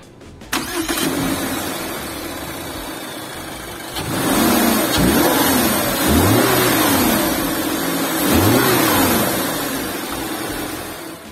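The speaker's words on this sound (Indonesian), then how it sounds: "Dan kita dengar suara mesinnya dulu." A Subaru Crosstrek's 2000 cc boxer engine cranks and starts, settles into a steady idle, then revs up three times in rising, falling swells, heard close and alone.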